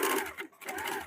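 A sewing machine stitching a two-piece blouse, a brief fast whirring run with a momentary pause in the middle.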